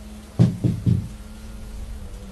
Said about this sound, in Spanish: escuché un golpe seco en la puerta